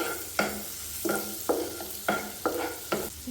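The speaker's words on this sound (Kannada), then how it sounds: "ಗ್ರೀನ್ ಚಿಲ್ಲಿನ ಒಂದು 2 ಮಿನಿಟ್ಸ್ ಫ್ರೈ ಮಾಡ್ಕೊಳ್ಬೇಕಾಗುತ್ತೆ" Green chillies frying in a pan give a continuous soft sizzle, broken by about seven rhythmic scraping stir strokes at close range, with no voices.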